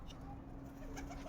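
Pigeons in a rooftop loft coo softly and faintly, a few low calls over a steady quiet background.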